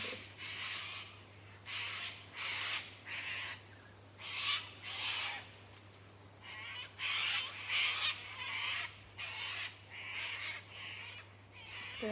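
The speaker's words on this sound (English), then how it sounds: "You can probably hear the cockatoos." Cockatoos call outdoors in the mountains with harsh, raucous squawks that come in repeated bursts at a middle distance. A low, steady hum runs underneath and no one speaks.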